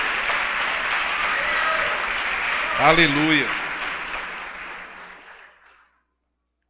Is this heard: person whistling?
no